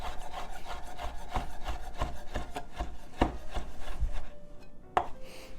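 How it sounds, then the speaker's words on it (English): A knife chops prosciutto ham into julienne strips on a cutting board in quick, steady rhythmic strokes, close and clear, with no voices. "And we're going to give them a julienne cut this way"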